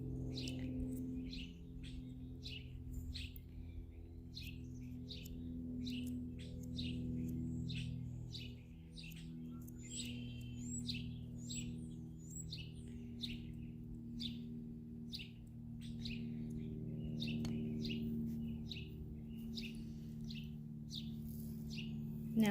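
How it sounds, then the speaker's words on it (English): Many birds chirp and tweet in quick, repeated bursts throughout, fairly close, over a steady low hum of background noise. "Geez, the birds are active today."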